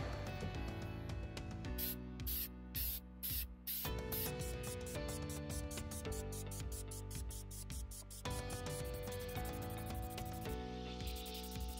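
Faint, quiet spraying of clear coat onto a Jeep center dash is mostly buried under loud, prominent music.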